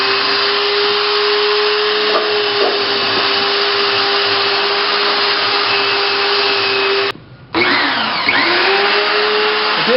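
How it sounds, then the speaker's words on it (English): A rotating wire wheel runs steadily, smoothing the rough edges of a back scratcher with a loud, constant whirring drone. It cuts out abruptly near the end for a moment, then spins up again. "so we use a rotating wire wheel"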